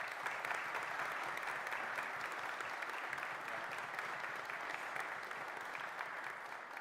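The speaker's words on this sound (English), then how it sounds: "let's give family and friends a huge round of applause" Sustained applause from a graduation ceremony audience, a steady dense wash of clapping that holds evenly throughout at a moderate distance.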